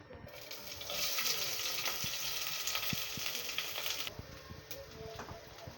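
Onions dropped into oil in a pan crackle and sizzle in a continuous close hiss, swelling after a moment and holding steady, with faint clicks and stirring taps underneath.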